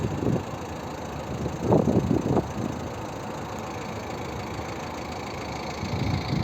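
A 2011 Volvo V50 with a 1.6 diesel engine idles steadily at a moderate distance, a low, even hum with a few brief louder swells.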